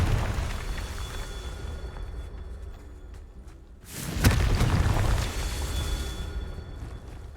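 Confringo fire spell blast in Hogwarts Legacy: a sudden booming explosion with a sharp crack, followed by a roaring burst that trails off over a few seconds, rising out of a steady ambient background.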